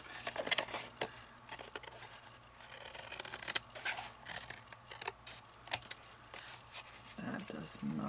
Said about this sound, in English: I'm going to cut off all of the top flaps.